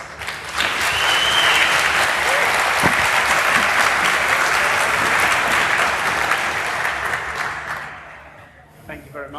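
Sustained audience applause fills a conference hall for several seconds, loud and dense, then tapers off near the end.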